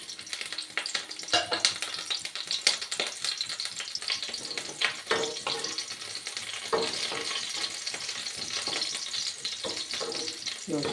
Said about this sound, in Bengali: রসুন আর কাঁচা লঙ্কাটাকে আর আদা কুচিটাকে একটু ভেজে নিয়ে পেঁয়াজ দিয়ে, পেঁয়াজটাকে একটু লাল করে ভাজবো।